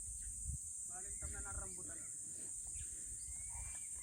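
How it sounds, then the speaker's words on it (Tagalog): Quiet farmland in the countryside with a steady high insect drone throughout, a cluster of bird calls early on, and scattered faint animal sounds and soft rustling in the background. "ibon at mga iba't ibang klase ng hayop maririnig po nyo dito"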